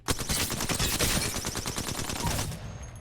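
Alternator SMG in Apex Legends firing a fast, continuous automatic burst of loud, evenly spaced shots for over two seconds before cutting off into a brief ringing tail.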